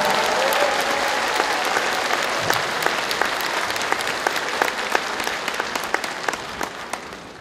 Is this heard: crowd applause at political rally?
yes